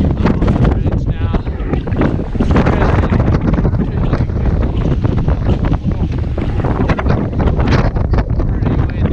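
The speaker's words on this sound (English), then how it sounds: "Pretty windy." Strong wind roars and buffets the microphone on a bridge on Mount Democrat, loud and steady throughout with gusty fluctuations, while a person talks briefly over it.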